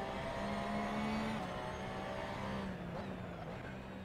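A race car in the Assetto Corsa video game laps Imola, its engine droning steadily with a sustained tone that shifts pitch slightly as it slows under braking, fairly faint and continuous.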